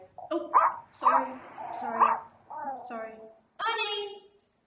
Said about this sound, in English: Leave that dog alone. It will bite you.